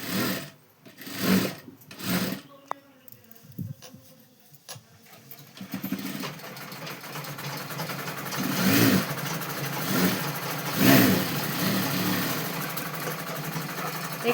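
A sewing machine stitches fabric while attaching a potli to a sleeve. It runs in short stop-start bursts at first, then settles into a longer, steady mechanical whirring close to the listener.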